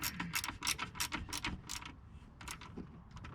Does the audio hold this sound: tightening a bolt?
yes